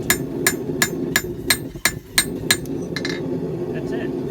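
A hammer strikes a hot metal guard being hot-fitted at a forge, ringing blows in a fairly steady rhythm of about ten sharp hits, close and loud over a low background hum.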